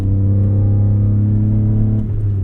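A BMW E46 M3's engine drones loudly and steadily from close by on back roads, a deep constant rumble with a slight dip near the end.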